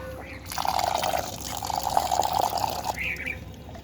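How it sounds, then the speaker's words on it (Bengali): Layer feed is mixed with water by hand for a pair of Chinese ducks kept on a rooftop, making a wet sloshing and churning sound that continues close and steady for several seconds. "সামান্য একটু লেয়ার লেয়ার ওয়ান দিছি দিয়ে এই যে পানিতে একটু মেখে নেব"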